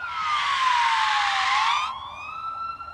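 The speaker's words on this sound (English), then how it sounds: "immediately there were sirens and 2 cop cars swooped in and blocked off the road" A police car siren sound effect sweeps in a loud, clean electronic wail, sliding down in pitch and then switching to a thinner rising tone, alone with no other sound.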